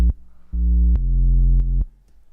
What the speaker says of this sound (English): Because now we're in the drop. This is the drop.